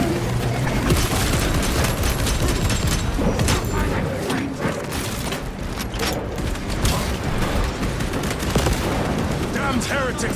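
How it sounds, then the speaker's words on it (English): Dense, loud gunfire and rolling blasts, including a frag grenade explosion, fill a chaotic Warhammer 40,000: Space Marine 2 battle, with machine-gun bursts continuing throughout and voices mixed into the din. "Frag grenade deployed."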